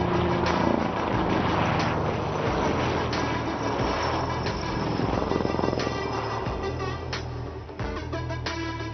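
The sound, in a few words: HAL helicopter flying display at Aero India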